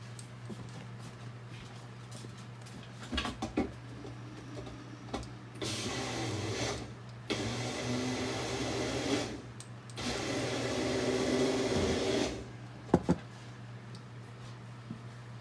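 A bullet blender whirs through short pulses while mixing bulletproof coffee, with three loud motor bursts separated by brief pauses and some faint handling clicks before and after, heard close up without any talking.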